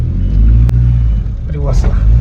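A car engine idles to warm up, a loud, close, steady low rumble with a sharp click partway through.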